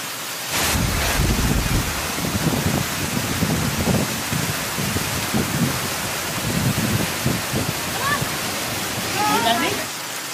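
Bomod-ok waterfall in Sagada, Mountain Province, roars as a steady, dense wash of rushing water that runs the whole time, with voices faintly audible beneath the constant spray.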